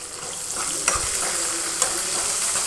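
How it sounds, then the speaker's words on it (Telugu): Tempering spices, chopped onion and green chilies fry in oil, a steady bright sizzle with a couple of sharp clinks from stirring. "పోపు దినుసులన్నీ వేసేసి అవి కొంచెం వేగిన తర్వాత కట్ చేసి పెట్టుకున్న ఉల్లిపాయ పచ్చిమిర్చి వేసేసి"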